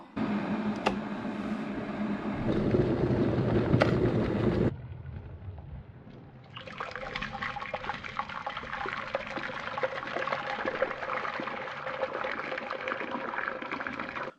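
Cockles rinsed under running water, a steady splashing hiss that pauses briefly midway, then resumes as a brighter, even rush of water close by.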